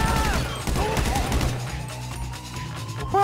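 Gunfire in GTA 5 during a prison-break mission with friends: a rapid fusillade of loud, clustered gunshots in the first second and a half, then fainter scattered shots and in-game engine rumble with musical tones.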